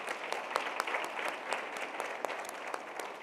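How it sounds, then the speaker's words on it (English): An audience applauds at a talk, a steady wash of many hands clapping at moderate distance, with no speech over it. "these are people we need to really give a round of applause to."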